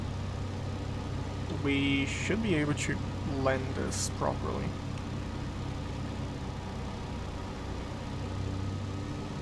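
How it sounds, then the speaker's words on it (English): P-38 Lightning twin engines idling in Microsoft Flight Simulator 2020, a steady low drone humming throughout beneath a voice speaking over the opening seconds. "with the engines idling"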